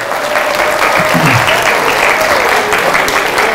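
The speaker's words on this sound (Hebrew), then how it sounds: "מגיע לה מחיאות כפיים" Audience applause at a religious lecture, a dense continuous wash of clapping that holds steady and loud throughout, with faint voices beneath.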